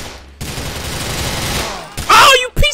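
Gunfire in GTA 4: The Ballad of Gay Tony in a New York-style city, a sustained loud burst followed by two sharp, close shots.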